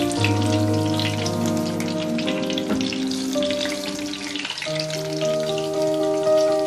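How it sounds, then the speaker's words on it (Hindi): Chicken cheese kababs fry in hot oil, with a continuous bubbling sizzle running beneath loud, sustained background music. "एक तरफ से फ्राई हो जाए तो साइड चेंज कर देंगे।"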